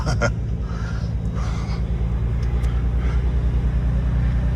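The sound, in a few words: 2026 Dodge Charger Scat Pack Sixpack exhaust gurgle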